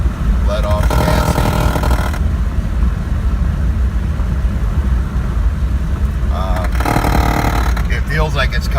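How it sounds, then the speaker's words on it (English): A 1996 Oldsmobile Bravada cruising near 60 mph makes a grinding noise from underneath when the driver lets off the gas. Steady loud road and engine rumble runs throughout, with brighter raspy bursts near the start and again toward the end. "this is a grinding sound. It's that right there, as soon as you let off the gas."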